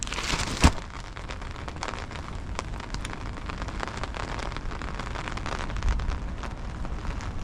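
Steady rain falls outside the Yokohama ferry terminal, a continuous dense patter on surfaces with a brief louder knock near the start and no voices.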